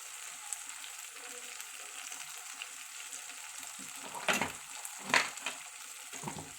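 Liver cooking in a hot pan with salt and ginger garlic paste, a steady soft sizzle with a few louder scraping clinks of a spoon stirring near the end, no voices.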